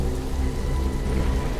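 Heavy rain falls steadily in a horror story scene, a dense, even hiss of drops pattering on surfaces with no pauses and no voices.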